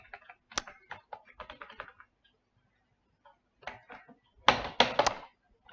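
Computer keyboard typing while coding a Flutter app, with bursts of quick close key clicks separated by a pause, then a denser flurry of keystrokes near the end.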